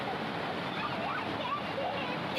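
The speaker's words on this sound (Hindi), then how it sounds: "पानी का कितना तेज बहाव है और उसके बीच यातायात ठप हो गया" Heavy-rain floodwater in Uttarakhand rushes past in a strong, unbroken roar, close and loud, with no voices over it.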